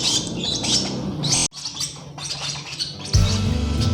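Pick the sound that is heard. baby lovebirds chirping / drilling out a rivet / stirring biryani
baby lovebirds chirping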